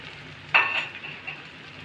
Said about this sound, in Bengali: তেল গরম হয়ে গেছে, এবার আমি আস্তে আস্তে ছেড়ে দেবো।